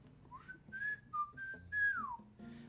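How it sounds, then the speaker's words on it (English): A person whistles a short, clear tune of several sliding notes, close and moderately loud, with no talking. "You want to hear my loud whistle?"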